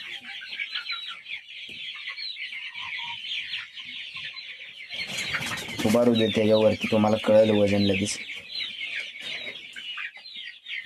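A desi gavran chicken clucks while it is set on a scale to be weighed. A burst of close, loud, rhythmic clucks stands out midway, over steady background chirping, while people talk around the bird.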